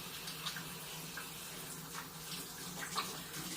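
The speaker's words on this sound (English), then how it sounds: "Wash my hands to get this dead animal off me." Tap water running steadily over hands at a kitchen sink, a soft continuous hiss and splash with faint small splatters, quiet and close throughout.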